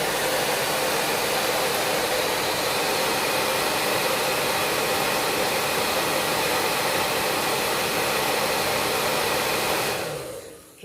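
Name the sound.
heat gun drying paint on a journal cover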